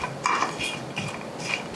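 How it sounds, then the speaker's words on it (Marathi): Peanuts and dry coconut being stirred while roasting in a pan, giving a few close, light scraping and clinking strokes in quick succession, with no talking. "शेंगदाणे हलके भाजत आले, यामध्ये सुकं खोबरं हेही मिसळायचं"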